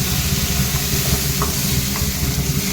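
Mushrooms in a pan sizzle and hiss steadily just after a splash of water goes in, with soft stirring scrapes over a continuous frying crackle and no talk.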